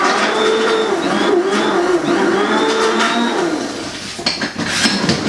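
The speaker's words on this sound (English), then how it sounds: "plug the bamix back in, and then just whiz it" A Bamix immersion blender whirring through soapy water in a cup, a loud steady motor whine for several seconds that wavers and sputters slightly near the end.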